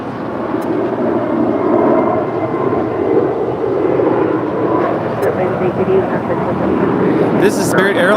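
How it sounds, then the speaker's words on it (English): Spirit Airlines Airbus A320neo jet departing Los Angeles (LAX), a steady, loud engine roar sustained throughout with a voice talking over it. "This is Spirit Airlines flight 888 departing to Columbus. It's an Airbus A320neo."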